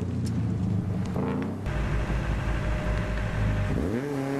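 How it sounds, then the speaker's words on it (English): A four-wheel-drive turbocharged rally car at a rally sprint roars loudly up close, engine note dropping then climbing hard as it accelerates away, with no talk. "Four-wheel drive, turbocharged car here."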